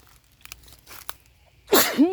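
A woman sneezes sharply twice in quick succession at the end, after a few soft rustling and handling noises while picking mushrooms.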